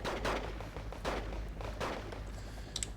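Submachine gun fire in the strategy video game Wargame Red Dragon, a close-quarters firefight with dense bursts of rattling shots and rumbling blasts, loud and continuous with no talking.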